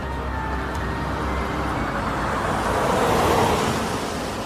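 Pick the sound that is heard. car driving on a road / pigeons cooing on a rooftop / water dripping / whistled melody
car driving on a road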